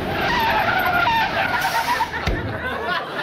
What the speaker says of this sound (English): Watch him get hit by a car.